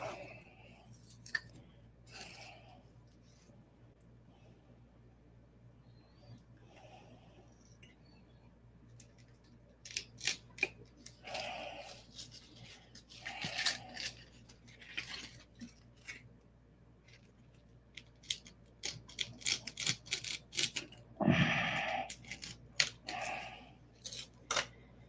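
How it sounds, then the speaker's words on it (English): A razor blade cuts through material on a workbench, giving a series of sharp, close snips and scrapes. Some clinks of tools and handling noises sound among the cuts, with no talking. "We'll cut it with a razor blade"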